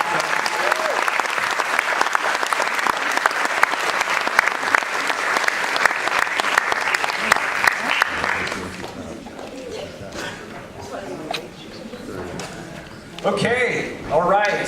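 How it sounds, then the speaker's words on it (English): A theater audience at a film premiere Q&A gives a loud, sustained round of applause for about eight seconds. The clapping then thins into scattered claps and murmuring, and a voice speaks near the end. "let's give another round of applause"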